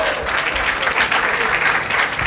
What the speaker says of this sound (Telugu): నేను సిద్ధము అన్నవారు చప్పట్లు కొట్టి దేవుని మహిమపరుద్దాం